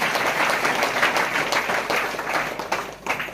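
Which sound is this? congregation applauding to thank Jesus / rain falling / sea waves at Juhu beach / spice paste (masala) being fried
congregation applauding to thank Jesus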